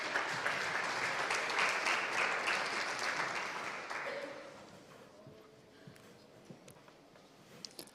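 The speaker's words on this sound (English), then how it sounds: "Please, a big applause to Moises." A conference audience at the Summit Pro Stage applauds a founder and CEO of a medical technology company as he takes the stage. Loud, full clapping fades away after about four seconds, leaving quiet room noise and a few scattered claps.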